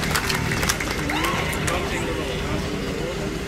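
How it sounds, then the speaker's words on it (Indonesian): At an anniversary ceremony for STIKOM Uyelindo in Kupang, a large audience applauds the academic community, a dense, continuous roar of clapping with a murmur of voices underneath. "Kita berikan tepuk tangan bagi segenap Civitas Akademika Stikom Uyalindo."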